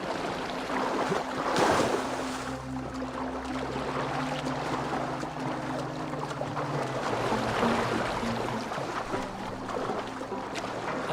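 A boat moves across open water, a steady low engine drone under a wash of waves and wind, with a louder surge near the start and no speech.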